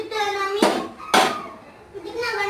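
Eggs dropped into hot oil in a pan while cooking a quick egg bhaji, with two sudden bursts of loud sizzling spitting up over a steady frying hiss.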